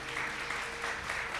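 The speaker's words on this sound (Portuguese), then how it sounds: "Quem pode aplaudir ao Senhor por isso?" A church congregation claps together for the Lord during a bishop's sermon, a dense, even burst of hands that stays fairly quiet and continuous for a moment, with no voices over it.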